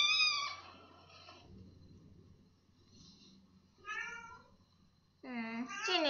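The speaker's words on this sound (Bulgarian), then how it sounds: "Котенце." A kitten meows several times at close range: a drawn-out cry, a short call and then a louder, rising meow, with quiet gaps between them.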